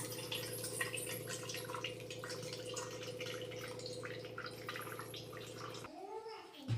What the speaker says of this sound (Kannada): ಅದನ್ನು ಹಿಂಗೆ ಸಣ್ಣಗೆ ಹಾಕಿ ಸೋಸ್ಕೊಳಕತ್ತೀನಿ ನಾನು